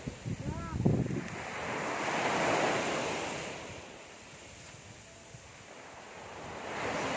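Rough surf on a beach, with waves rolling in and washing up in a broad, loud rush that swells and recedes, mixed with wind buffeting the microphone and a brief voice at the start.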